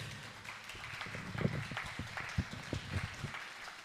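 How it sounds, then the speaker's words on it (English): An audience at a volunteer recognition ceremony in Honolulu claps for a harpist, a modest, fairly faint patter of scattered handclaps without voices. "Give her a round of applause."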